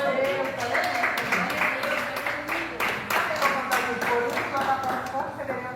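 A church congregation claps together for King Jesus during a worship service, a steady rhythmic run of hand claps filling the room beneath a voice speaking over it.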